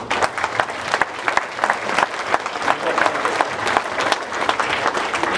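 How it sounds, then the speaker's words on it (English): An audience at a school academic excellence awards ceremony for a first grade team claps loudly, sharp hand claps piling into sustained applause with some crowd murmur underneath. "I think they deserve a big round of applause"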